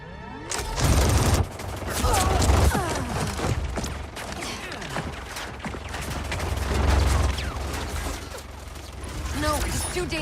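Cassie Cage firing her guns in the fighting game Mortal Kombat 11, bursts of rapid shots and mechanical clatter recurring over about ten seconds, loud and busy alongside other game effects and some speech.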